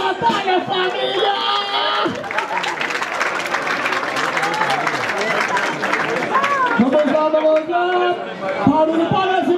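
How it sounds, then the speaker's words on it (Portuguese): A crowd at a Brazilian rap battle, the 72nd Batalha da Aldeia in Barueri, São Paulo, cheers and claps steadily. The noise is loud and dense, with shouting voices mixed in throughout. "Palmas pra essa batalha, família!"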